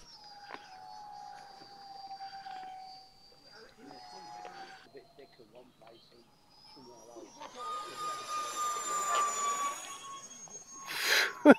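A Cheetah twin 30 mm EDF model jet with two small electric ducted fans flies past, its rising whine building from around the seventh second to a loud, close peak near the end, after quieter passages with some voice-like tones.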